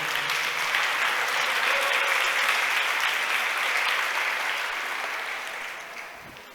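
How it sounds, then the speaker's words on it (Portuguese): A church congregation applauds the Lord during a worship service, producing a dense, continuous wash of clapping from many people that holds steady and then gradually fades. "Pode aplaudir o Senhor"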